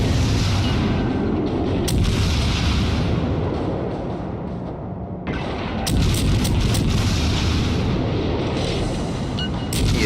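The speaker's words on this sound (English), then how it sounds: "Shots are away. He's firing his guns at me." Naval gunfire in World of Warships from the Tier IV American cruiser Phoenix, heavy rumbling booms and rolling blasts filling the clip with sharp crack transients, loud and continuous with a brief lull midway.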